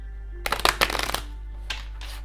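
Tarot cards are shuffled close by in a short riffling burst of dense rustling and snapping, followed by two softer, brief shuffles after a pause, over a steady low hum.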